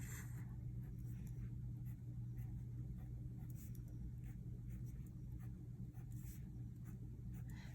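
A pen scratches across paper while leaves are sketched, a faint, continuous rhythm of short strokes heard closely and quietly without talk.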